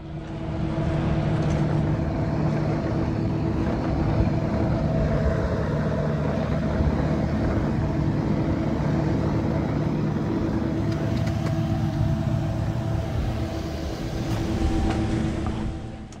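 A Pacific Coastal Saab 340 turboprop on the ramp gives a steady, loud engine drone with a constant tonal hum that holds throughout, with no voices.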